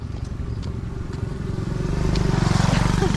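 Motorcycles and other vehicles pass on a roadside, their engines a steady close drone that swells louder toward the end, with light clatter and faint voices.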